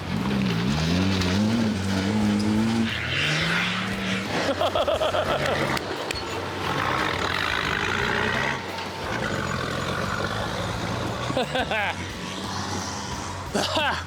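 A car engine revs hard, its pitch climbing and falling, then keeps roaring loudly alongside clattering and other noise.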